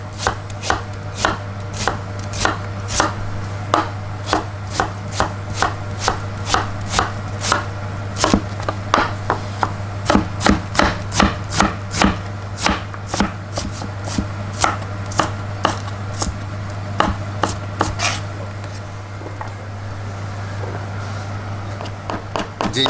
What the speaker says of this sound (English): then cut into fine chop.